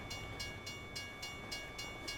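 A train rolls past in the American Truck Simulator game, its steady rumble broken by evenly spaced rhythmic clacks, moderately loud and continuous with no voices.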